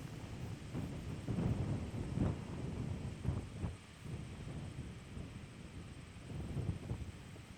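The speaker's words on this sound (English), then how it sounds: "Lots of wind, and he's got some distance left to cover." Strong wind buffets the microphone on a golf course, a continuous low rumbling roar with gusty swells rising and falling throughout.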